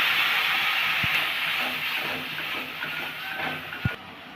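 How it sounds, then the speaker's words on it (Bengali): A little water hits turmeric, chilli, cumin and coriander frying in a hot pan, releasing a strong hissing burst of steam that slowly fades, with a couple of sharp utensil knocks. "অল্প একটু জল দেব।"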